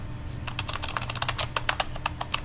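A computer keyboard clicks in a steady run of quick keystrokes while someone fills in an online form. The typing is close and clear over a low background hum, with no talking.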